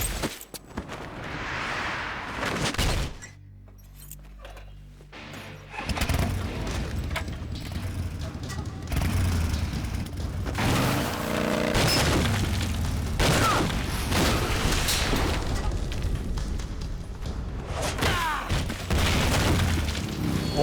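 Gunshots in the stealth-action game Metal Gear Solid 3, a scattered series of pistol cracks and booms mixed with game music and effects, while someone talks over much of it.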